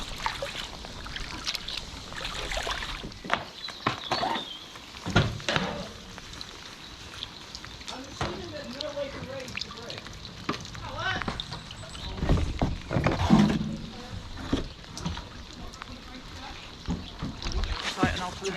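Kayaks paddled along the Brecon and Monmouth canal in rain, with irregular splashes and water sloshing close by, while people talk throughout.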